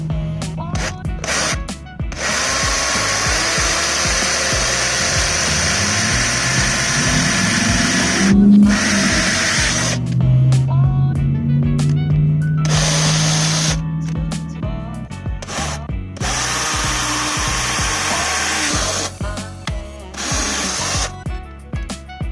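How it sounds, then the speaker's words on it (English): A power drill with a 7mm bit whirs steadily in several long runs drilling mounting holes for Can-Am Outlander mud flaps, separated by brief pauses, close and loud with a rising and falling motor pitch. "Use the 7mm drill bit to drill the holes into the designated mounting slots."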